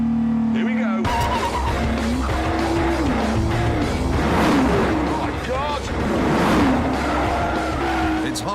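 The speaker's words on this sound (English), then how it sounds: "engage the launch control, left foot on the brake, build up the revs" A Nissan GT-R engine revs hard and surges as the car accelerates under launch control, with tire squeal and skidding; someone speaks over the loud roar.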